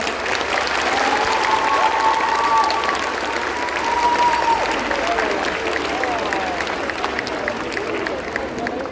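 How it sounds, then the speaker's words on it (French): Sustained applause from a crowd at a cosplay contest, dense and steady clapping throughout, with a faint voice or two rising briefly above it. "on peut l'applaudir encore une fois"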